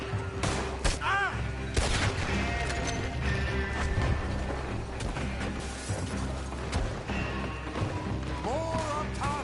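Sustained game gunfire from a Red Dead Redemption 2 shootout, with dense crackling shots and volleys packed throughout, loud and busy, with shouted voices mixed in.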